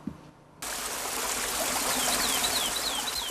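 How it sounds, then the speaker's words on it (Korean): Water endlessly flowing down a deep mountain valley stream: a steady, close broadband rush begins abruptly and continues without a break, with faint bird chirps repeating over it. "심산계곡을 찾아가 끝없이 흘러내리는 물소리를 들어도 좋다"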